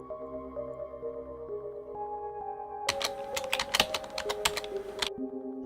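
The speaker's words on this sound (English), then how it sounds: "I start typing again in high and proud spirits" Keyboard typing effect from the visual novel I/O: a quick burst of rapid key clicks erupts midway over a steady tonal music bed, lasting about two seconds before the music carries on alone.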